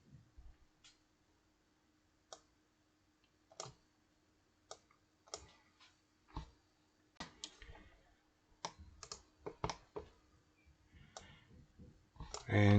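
Computer mouse clicking during CAD modeling, sharp isolated clicks spaced irregularly at first, then in quicker clusters toward the end, close and fairly quiet over a faint steady hum.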